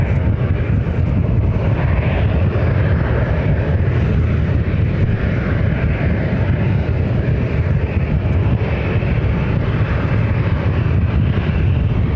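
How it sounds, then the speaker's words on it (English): A FedEx feeder Cessna Super Cargomaster arrives at Ontario airport in California, its engine giving a steady, loud broadband rumble that holds without a break for the full stretch, with no voices over it. "Arrival is another FedEx feeder coming in from San Luis Obispo, Flight 7694 is another Cessna Super Cargo Master."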